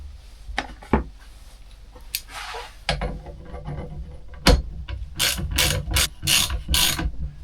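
A ratchet fitted with a 24 mm ground-down socket works on a bicycle fork, giving scattered clicks and knocks, then bursts of rapid close ratcheting clicks in quick repeated strokes.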